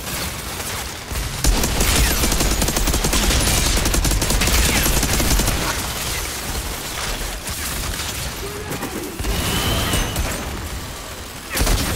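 Sustained gunfire from a weapon in the Outriders shooter game fills the whole stretch: dense, rapid bursts of shots with some booming impacts, loud and continuous, while a player talks over it.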